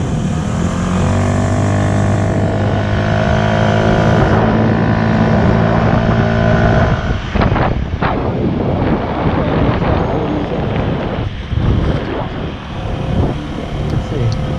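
Honda Metro scooter fitted with an NCY CDI and Polini variator, riding with a steady loud engine drone, wind buffeting the microphone, and the pitch shifting and rising as it accelerates; a voice speaks briefly under the noise.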